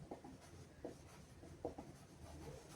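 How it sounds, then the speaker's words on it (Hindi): A marker or chalk scratches across a board during a Class 11 math lesson, soft intermittent strokes in a quiet room with no talking. "यहाँ पर हम लिखेंगे"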